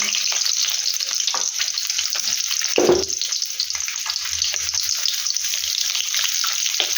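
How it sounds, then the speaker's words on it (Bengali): Eggs fry lightly in a pan with turmeric and salt, a continuous close sizzle broken by a brief clatter of stirring partway through. "ডিমটাকে এখন একটু হলুদ লবণ দিয়ে হালকা করে ফ্রাই করব"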